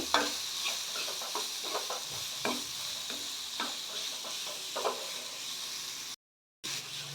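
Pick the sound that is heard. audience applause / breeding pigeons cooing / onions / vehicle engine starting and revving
onions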